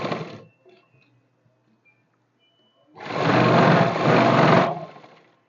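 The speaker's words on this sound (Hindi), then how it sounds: "ट्राउज़र की बीच वाली सिलाई लगा बराबर रहे" A brief rattle from a sewing machine, then a near-silent pause before it whirs into a loud, steady run of about two seconds, stitching the middle seam of straight trousers.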